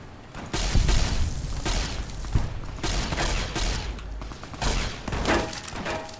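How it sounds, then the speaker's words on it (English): Pulse grenade explosion in Fallout: New Vegas during a firefight, with a loud crackling blast followed by repeated booms and gunfire bursts, rough and close. "Oh, you used a pulse grenade."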